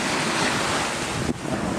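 Ocean waves at sea around a sailing boat, a steady broadband wash of surf and water rushing with wind buffeting the microphone, continuous and fairly loud throughout.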